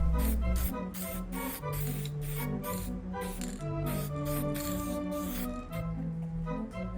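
Solid black lacquer is sprayed onto the frame of a 1920s Spiegel Art Deco dresser, heard as close, repeated short hissing bursts with steady pulsing from the spray equipment underneath.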